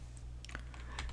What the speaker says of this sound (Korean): 바로 여기서 엔터키를 눌러서